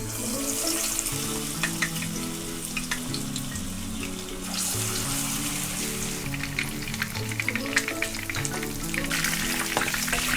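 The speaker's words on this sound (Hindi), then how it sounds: "ऑयल को हमने मीडियम फ्लेम पर गर्म कर लिया है। अब हम इसमें मैरिनेट की हुई फ़िश शामिल करेंगे।" Marinated fish frying in oil heated over a medium flame, a loud, continuous dense sizzle and crackle close by with scattered pops throughout.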